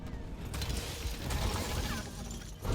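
A dense, gritty mechanical grinding and clanking from the Alatreon monster in Monster Hunter World runs continuously, like heavy gears cranking, fairly loud with a brief dip near the end.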